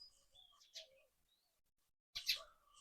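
Sparrows chirp in the trees, with short, faint, scattered tweets at a distance, a pause, then a brighter, louder burst of chirping near the end, with no talking.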